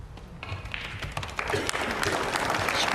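Scattered, light applause from a small crowd at an English Open snooker match, a soft patter of claps that thickens slightly toward the end, heard at a distance without speech.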